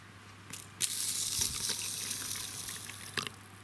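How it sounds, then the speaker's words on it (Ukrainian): Water pours into containers while testing lime and copper sulfate, a bright rushing splash that swells in after a few clicks and runs steadily, close and clear, with no talking. "І зараз ми однакову кількість води сюди залємо."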